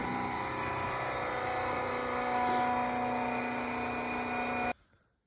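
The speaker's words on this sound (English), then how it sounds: "I'm gonna get a little bit of fuel into the hose." A small electric pump powered by a jump pack moving fuel from a transfer tank, a steady whining motor hum close by that runs continuously and then cuts off abruptly near the end.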